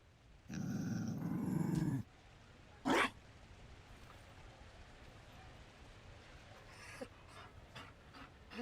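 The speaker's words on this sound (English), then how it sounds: "You found a dog?" A Mabari war dog in Dragon Age: Inquisition gives a loud, rough growl lasting about a second and a half. A short burst follows, then quiet breathy panting and small sounds fade in under faint background noise.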